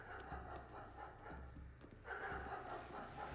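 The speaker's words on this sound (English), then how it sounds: "A doggy!" A dog in the video game Pathologic pants and snuffles at close range, a rhythmic breathy panting over a steady game soundscape.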